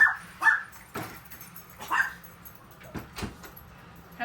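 Dogs bark in a short burst as someone comes in the door, several sharp yips and woofs spaced irregularly, mid-distance and fairly loud, with faint whimpering between them and no talk over it.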